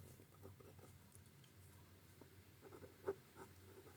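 A pen writes on paper for a math problem, faint soft scratching strokes in an uneven rhythm with one sharper tap near the end.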